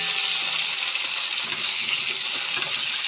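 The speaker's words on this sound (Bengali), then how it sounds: "ফুলকপিগুলো একবার করে নাড়িয়ে দেবো।" Cauliflower florets fry in oil with turmeric powder in a pan, a steady broadband sizzle running throughout, broken by a few sharp clicks of a spoon as the pieces are stirred.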